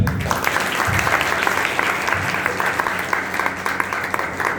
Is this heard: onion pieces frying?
no